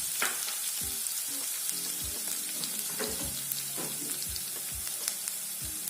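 Mustard seeds, cumin and crushed garlic sizzle steadily in hot oil, a constant close hiss broken by scattered pops and crackles and a few soft clicks of stirring, with no voices.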